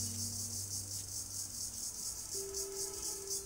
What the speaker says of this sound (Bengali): মায়ের ঝিঝি পোকার ডাক খুব পছন্দ